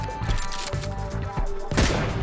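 Bot gunfire in the battle royale game PUBG, a close, dense stretch of rapid shots and thuds with louder bursts near the middle and end, over a constant game background din.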